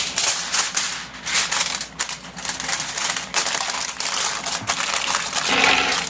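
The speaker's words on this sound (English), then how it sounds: "just cover the bottom with aluminum foil" Aluminum foil gets pressed and spread across the bottom of an air fryer basket, producing close, loud crinkling and crackling in irregular bursts with brief pauses between.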